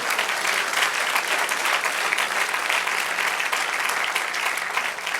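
A church congregation applauds, a steady, full wash of many hands clapping that holds at an even, moderately loud level throughout, with no talking over it.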